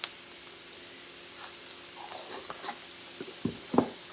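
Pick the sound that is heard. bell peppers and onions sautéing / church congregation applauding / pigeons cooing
bell peppers and onions sautéing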